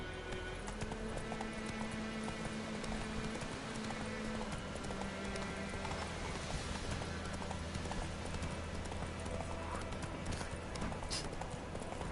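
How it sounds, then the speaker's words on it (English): Horse hooves clip-clop in a steady, brisk rhythm as a horse moves along in a video game, with a continuous background bed of game ambience underneath. "Whoa there, Roach."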